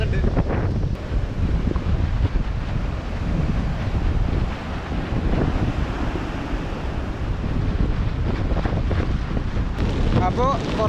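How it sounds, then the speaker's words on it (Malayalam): Sea waves surge and crash against a coastal shore in rough, windy weather, making a continuous loud roar with wind buffeting the microphone throughout. "ഇതിൻ്റെ അടികൂടെയൊക്കെ കടൽ നല്ല രീതിയിൽ അടിച്ച് കയറുന്നുണ്ട്."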